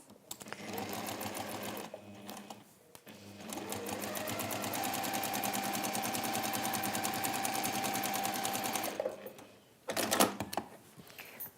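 A sewing machine stitches a piece of fabric down in a textile craft session. Its rapid mechanical whirr is close and fairly loud, with a short burst first and then one long, steady run, and it stops with a few clunks near the end.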